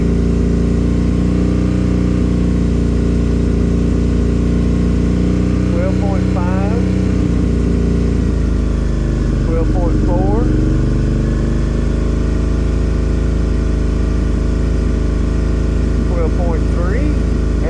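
Suzuki V-Strom 650 motorcycle engine with a charging fault, running steadily close by with a loud, continuous drone as it is sped up, while someone talks over it throughout.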